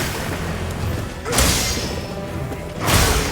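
Zoh Shia's crystals detonating in the video game Monster Hunter Wilds: two heavy, booming blasts about one and a half seconds apart, rising loud over a steady rumbling game backdrop, with no talking.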